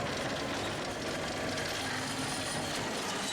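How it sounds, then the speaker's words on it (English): A recycling truck's lifting mechanism grinds and ratchets as it raises and empties a wheelie bin. The sound is a dense, continuous mechanical clatter with steady loudness and no voices. "So here it is, the recycling truck"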